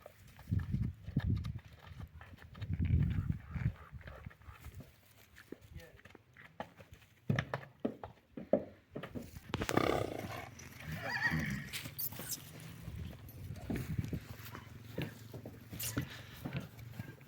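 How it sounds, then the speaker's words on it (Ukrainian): Horses, including a young filly, nearby on a farm in Berezove, hooves clopping on the ground and a whinny, with people talking in Ukrainian in the background at moderate volume. "Покажемо ще коні."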